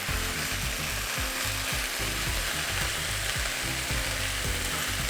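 Vegan fish cake stir-frying in a pan with a loud, constant sizzle, broken by repeated scraping and clacking of the utensil as it is tossed.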